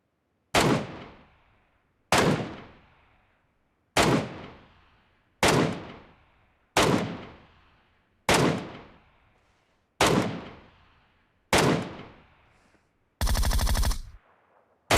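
An MK14 rifle fires single shots in the BGMI battle royale mobile game, with eight loud, evenly spaced cracks about every one and a half seconds, each ringing out briefly, then a denser burst at the end.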